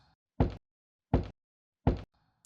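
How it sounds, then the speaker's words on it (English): Three slow, hollow knocks land about three-quarters of a second apart, each a sharp thud that cuts off cleanly into near silence. "3 slow knocks."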